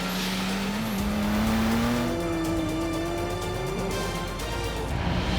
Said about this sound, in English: Halfway into the first lap, the van was flying, but Guy was having to work very hard.